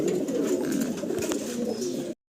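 Continuous low, throaty cooing from pigeons, several birds overlapping in a soft rolling murmur, close by, ending abruptly.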